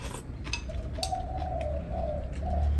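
A turtle dove coos in a steady repeated series of soft, low notes, heard at moderate distance over a constant background hum and faint outdoor noise.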